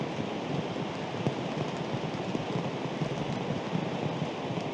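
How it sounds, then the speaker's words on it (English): Steady rain falling on a golf course during a professional women's tournament round, a dense, continuous hiss of drops hitting the ground, with no voices heard. "Hundreds of thousands of raindrops though,"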